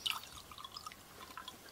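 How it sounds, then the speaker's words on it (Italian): Water trickles and drips into a small jar indoors, a faint, close, light splashing over about two seconds with no voices. "Riempiamo con un po' di acqua un barattolino."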